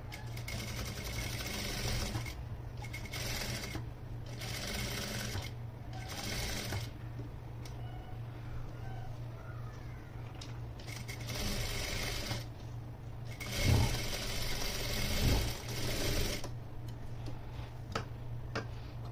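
A sewing machine stitches an anarkali frock in repeated bursts of fast, rattling, ticking whir separated by short pauses, fairly close and clear, with no talking.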